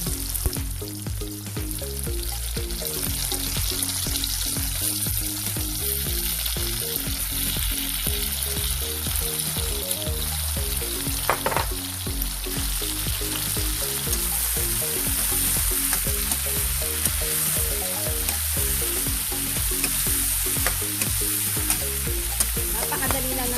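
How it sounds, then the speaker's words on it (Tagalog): Shrimp sauté in a hot pan with a steady, loud sizzle and frying crackle that runs continuously throughout, with occasional stirring scrapes and no voices. "Igisa lang natin mabuti yung hipon."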